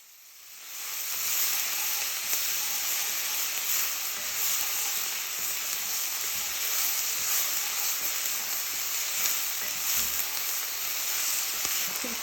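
Spices roasting in a hot pan give a loud, continuous hissing sizzle that starts abruptly and holds steady throughout, close up with no voices.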